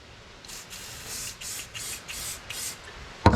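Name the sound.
silicone spray sprayed onto wire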